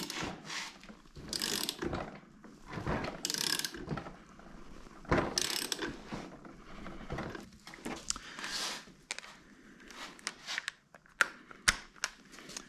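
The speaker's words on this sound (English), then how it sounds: "Manual wrench first." Hand wrench ratcheting and clicking while tightening wheel nuts on a Toyota Land Cruiser FJ40, quiet and close in a workshop, irregular bursts of metallic clicks with shuffling handling noises between turns.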